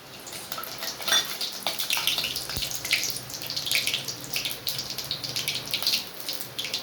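Whole spices — cinnamon, cloves, seven or eight peppercorns, fennel and cumin — spluttering in hot oil for an egg curry, a dense, steady crackle of small pops running throughout with no talk.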